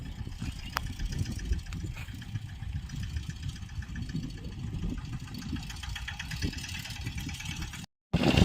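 A VST power tiller engine runs steadily at mid pitch with a continuous knocking chug, close and fairly even throughout, briefly cutting out near the end before resuming.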